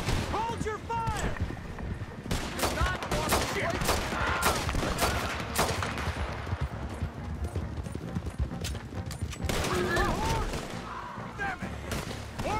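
Rapid gunfire in the video game Red Dead Redemption 2, dense overlapping shots cracking in quick succession amid galloping hooves and shouting voices, loud and sustained throughout.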